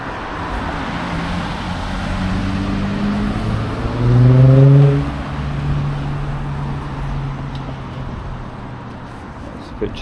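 Road traffic at a school crossing in Innisfail, Australia, with vehicles passing in a steady low rumble and one louder car swelling past midway, engine tones sliding as it goes by.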